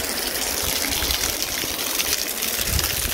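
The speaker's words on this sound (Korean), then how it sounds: "뜨거운 온천물이 그냥 하늘에서 떨어지고 있습니다" Hot spring water pours off rocks as a waterfall at Gold Strike Hot Springs near Hoover Dam, a steady, close, loud broadband gush and splash that continues without pause.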